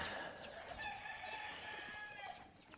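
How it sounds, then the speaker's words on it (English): An old retired gamefowl rooster on a farm, giving faint, soft clucks and a short crowing call against quiet background noise. "here's one of the old retired roosters"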